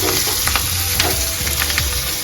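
Green chillies frying in hot oil, a steady close sizzle with bubbling crackle throughout, loud and alone without speech.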